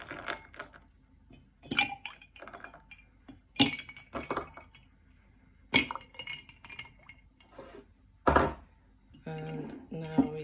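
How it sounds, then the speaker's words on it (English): Ice cubes dropped into a glass for an iced Spanish latte, giving several sharp glassy clinks and clatters spaced apart, moderately close with quiet gaps between. "Just going to add in the ice cubes now."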